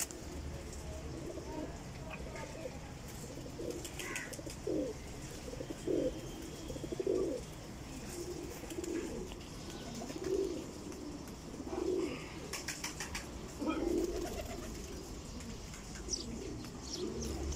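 Flying pigeons offered for sale coo repeatedly at close range, soft throaty calls recurring every second or two over faint background noise and occasional rustling.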